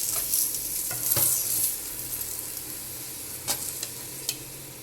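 A Chinese paratha frying in a pan and being moved around with a spoon, giving a steady sizzle of hot oil with occasional scraping stirs and light clinks, close and alone without talk.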